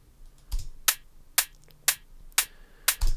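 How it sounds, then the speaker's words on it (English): A clicky hat layer for a kick drum, designed in an Ableton sampler, sounds as six or seven sharp, bright, dry clicks spaced roughly half a second apart. "So just kind of a clicky hat sound,"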